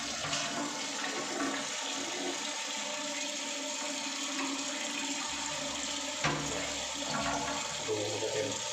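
A toilet cistern, a model that uses a lot of water, flushes and then refills, with a steady rushing, gurgling water noise running continuously throughout at moderate level.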